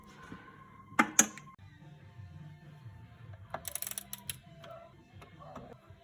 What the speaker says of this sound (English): we'll go ahead and torque that one down to 18 inch-pounds